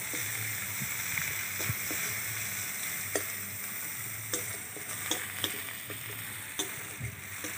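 Chopped onion fries in oil with a bay leaf, giving a soft, steady sizzle with scattered light ticks and pops of stirring throughout.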